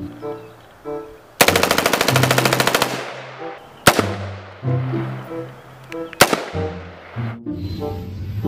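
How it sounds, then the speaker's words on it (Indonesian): Bursts of automatic M4 rifle fire from a dinosaur video game, one long rapid volley followed by sharp single shots, loud and close over a looping game music background. "Yang ini namanya M4."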